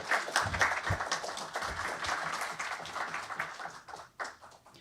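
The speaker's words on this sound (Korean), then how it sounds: "박수 부탁드리겠습니다" A forum audience applauds, dense clapping filling the room at a steady level for several seconds before thinning out near the end.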